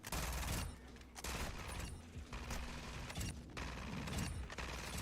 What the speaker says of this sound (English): Joke's on you, I have a fully automatic pistol.